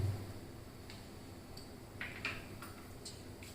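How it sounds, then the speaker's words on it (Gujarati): Sparse, faint popping and crackling from half a spoon of mustard seeds in hot oil, a handful of sharp little snaps over a low, steady background hum. "તેલ ગરમ થઈ ગયું છે તો સૌ પ્રથમ એમાં આપણે અડધી ચમચી જેટલી રાઈ નાખીશું"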